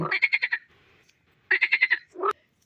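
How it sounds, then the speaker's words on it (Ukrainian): Frogs croak in a garden pond with white nymphaea water lilies, two loud close bursts of rapid pulsing croaks separated by a short pause, followed by a single shorter call. "Жаби починають кричати, не дають чого казати."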